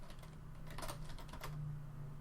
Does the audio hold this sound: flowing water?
no